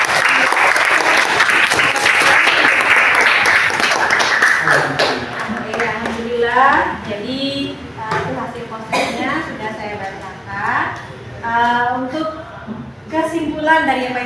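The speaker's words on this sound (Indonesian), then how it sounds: "Kita beri aplaus buat Fatan." A classroom of students claps together for a classmate, loud and close for several seconds, then the clapping thins out into scattered claps as children's voices rise over it.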